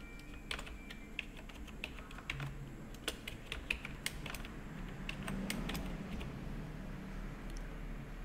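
Fingers type on a computer keyboard, a quiet, irregular run of close key clicks over low room hum, with no voices.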